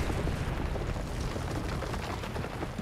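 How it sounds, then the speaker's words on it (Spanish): A detonated object explodes in Far Cry 4, giving a dense sustained roar of blast and rumble that fills the whole clip with no break. "Porque esa explosión hacía cagar todo"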